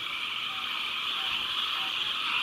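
A chorus of frogs croaks at night near a Myrtle Beach resort, forming a steady, dense high-pitched trill that runs unbroken throughout, fairly loud and without any voices.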